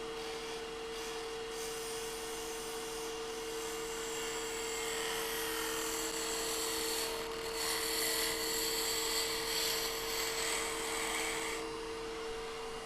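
A lathe tool cuts the high spots on a sphere being turned, giving a steady whining hum with a constant tone, faint and continuous with light scraping variation and no talk.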